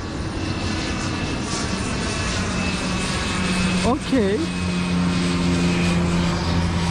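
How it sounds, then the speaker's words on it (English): A continuous engine drone from small local airplanes flying between islands in the Maldives hums steadily in the background, and someone briefly speaks over it midway. "These small planes here could be local planes shipping people from one island"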